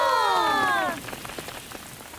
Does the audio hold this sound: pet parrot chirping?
no